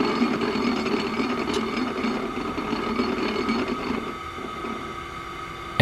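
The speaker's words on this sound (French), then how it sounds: "La pince s'élève dans l'obscurité du plafond et l'emporte au loin vers une autre machine" A mechanical claw machine grinds and ratchets as it rises and moves off, a continuous whirring of gears with clicking texture that eases slightly near the end before a sudden clunk.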